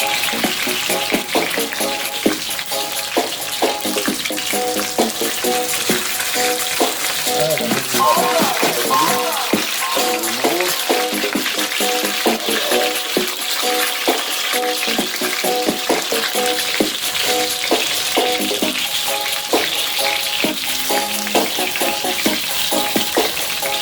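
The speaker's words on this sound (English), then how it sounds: "I'm doing Jamaican style Escovitch fried fish." Jamaican Escovitch-style red snapper fries in hot oil with a loud, continuous sizzle and crackle. Small pops and spatters break through it steadily from start to finish.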